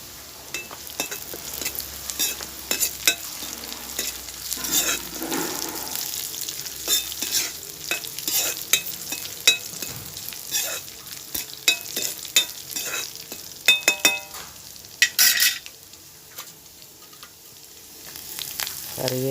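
Dried red chilies fry in hot oil and are stirred, giving a continuous crackling sizzle broken by scraping and clinking stir strokes, close and fairly loud, with no talk.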